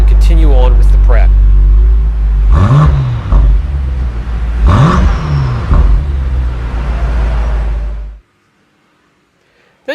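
A BMW M5 Competition rolls into a shop, its engine rumbling with a couple of low revving swells and a whir before cutting off near the end, with a voice talking over part of it.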